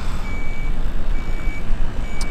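A heavy truck with a full trailer reverses, its steady diesel rumble filling the scene while a reversing alarm beeps in slow, evenly spaced tones over it.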